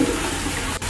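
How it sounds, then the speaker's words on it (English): A toilet in Australia flushes, giving a continuous rushing gurgle of water, close and fairly loud, that cuts off briefly near the end of the one-second stretch. "Look at that fun flush."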